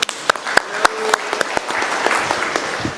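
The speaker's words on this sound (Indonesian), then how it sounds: "Tepuk tangan dulu untuk kita semua Bapak Ibu." Audience clapping at a discussion forum on handling general election result disputes, starting with scattered sharp claps and swelling into dense sustained applause, close and loud.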